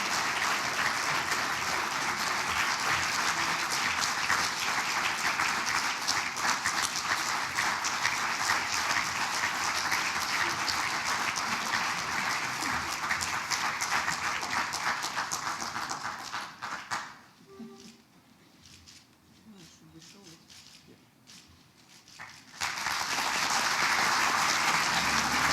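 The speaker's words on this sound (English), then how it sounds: "Please applaud Natalia." Sustained audience applause at an awards dinner honoring a recipient on stage, loud and dense for about seventeen seconds, then dropping away to a quieter lull before another burst of clapping returns near the end.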